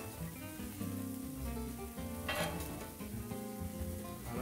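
Liver sizzles steadily on a grill for bangus sisig, a dense continuous crackle with a brief louder flare midway, heard alone without talk.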